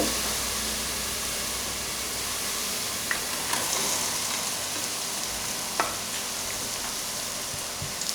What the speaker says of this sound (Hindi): लौकी को मैंने इसके अंदर डाल के 1 मिनट तक मैं इसी ऑयल के अंदर इसको फ्राई करूँगी।